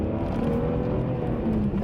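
A BMW E46 M3 engine drones and revs close by in a short, steady burst of road noise and engine hum, with no talking.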